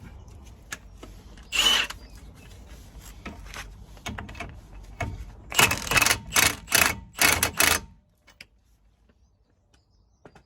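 Metal clacks of a lock nut being tightened on a Vauxhall Astra H steering tie rod, a quick burst of loud sharp clicks after a lone earlier clack, then silence.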